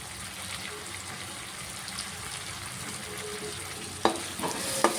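Chili powder and coriander seeds fry in oil, a steady close sizzle with stirring scrapes and a few sharp clinks near the end.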